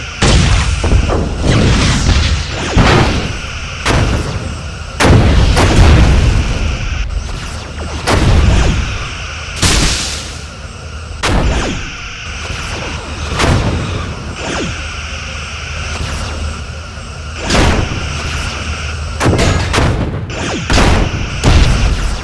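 Starship phaser fire and weapon impacts in Bridge Commander during a space battle: repeated loud booming bursts at irregular intervals over a continuous rumbling background.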